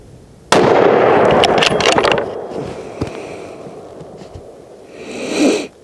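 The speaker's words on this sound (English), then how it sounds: "I'll shoot the top bullseye this time." A gunshot fired at a bullseye target makes one sudden loud crack that rings out and decays over a couple of seconds, followed by fainter rustling and a soft swell of noise near the end.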